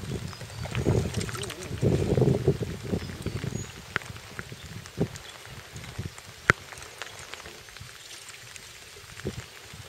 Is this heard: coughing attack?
no